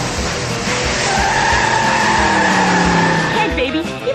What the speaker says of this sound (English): It has car chases loud enough to rattle your fillings.